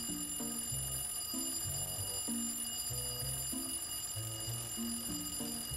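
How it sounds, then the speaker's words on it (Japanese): An alarm clock ringing in a bedroom on a workday morning, sounding a repeating electronic melody of short beeping notes in a steady loop, loud and alone with no talking. "アラーム鳴ったぞ"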